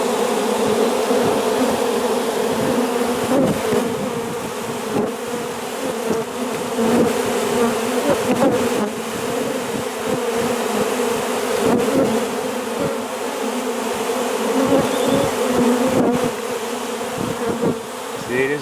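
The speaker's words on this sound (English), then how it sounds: "There's a lot of bees coming out, a lot of bees." Many honeybees buzzing loudly around a trap-out cone fixed to a bee tree, a dense continuous drone with individual bees passing close by, no talking.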